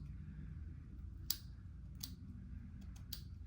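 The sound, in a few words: cutting lace off a glueless wig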